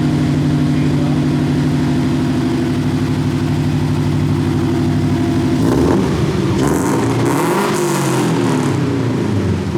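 A Scion FR-S engine with aftermarket headers idles with a loud, throaty rumble, then revs up sharply and roars, its exhaust crackling close by.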